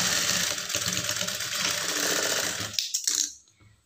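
A sewing machine stitching a lining blouse whirs steadily and loudly up close, then slows into a few rattling clicks before falling quiet.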